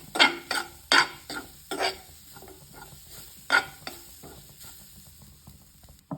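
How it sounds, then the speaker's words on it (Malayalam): Sharp scraping stirs grated coconut roasting in a pan with a little coconut oil and a light sizzle, several quick strokes early then sparser scrapes, no voices. "തേങ്ങ വറുക്കാനായിട്ട് എടുക്കുന്ന പാത്രം ഇതാ."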